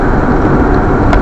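A car engine revs and accelerates, loud and close from inside the vehicle while driving through West Yellowstone, a steady broad roar that holds through the whole short stretch.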